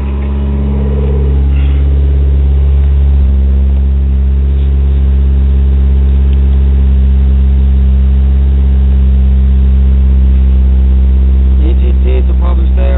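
A 1G Eagle Talon TSi DSM with about 440 wheel horsepower idles with a steady, deep droning rumble, loud and close, holding an even tone throughout with no talking.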